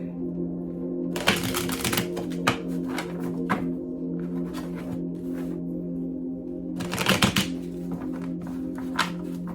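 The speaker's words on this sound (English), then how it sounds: "I like to get them really shuffled" Tarot cards are shuffled in two loud riffling bursts, with scattered soft taps and shuffling in between, over a steady low hum.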